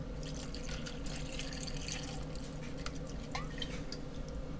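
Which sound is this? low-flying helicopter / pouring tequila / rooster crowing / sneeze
pouring tequila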